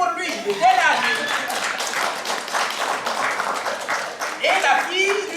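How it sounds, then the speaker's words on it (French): An audience claps during a storytelling performance, with a steady patter of applause through the middle and voices speaking over it at the start and end. "Très bien, applaudissez pour lui."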